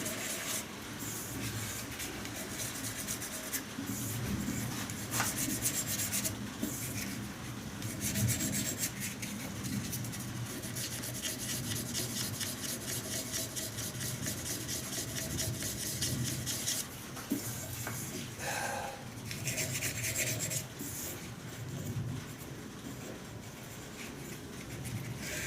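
Steady rasping abrasion of sandpaper against a turned wooden shaving brush handle on a lathe, a continuous close rubbing hiss with slight pulsing texture, running alone without talk.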